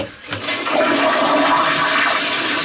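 Toilet flushing through a leaking Sloan flushometer valve, a loud close rushing surge of water that starts after a brief click and holds steady to the end.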